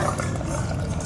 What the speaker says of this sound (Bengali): এই মালসার ভিতরে ঢেলে দেবো।